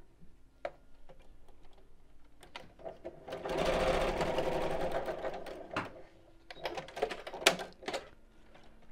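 A sewing machine stitches straight across the end of a fabric pouch in a dense burst of rapid mechanical chatter lasting a few seconds, framed by scattered clicks and handling taps.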